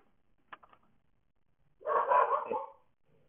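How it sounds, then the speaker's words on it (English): A dog lets out a short flurry of barks after a few faint clicks, fairly close but moderate in level, with near silence around it. "There goes the dog."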